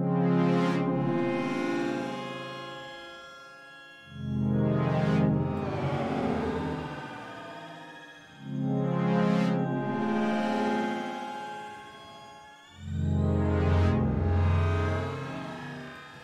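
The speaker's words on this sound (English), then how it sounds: "let's have a listen to it with this sort of weird grainy sound." A droning, grainy pitch-shifted texture from Bitwig's Pitch Shifter swells and falls in repeated waves, each rising to a bright, glittering smear before fading into low rumble.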